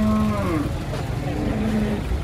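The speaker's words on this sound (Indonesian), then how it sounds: "kedatangan rombongan sapi" A herd of cows arriving nearby, lowing loudly in long drawn-out moos that overlap one another, with a steady murmur of background noise underneath.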